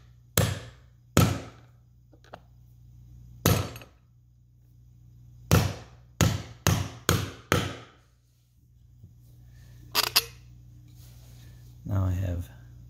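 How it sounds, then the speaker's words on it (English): Several sharp taps seat a Segway S-Plus handle part into place during handle assembly, coming as isolated knocks and a quick cluster of five, close and distinct over a low steady hum. "and tap it into place"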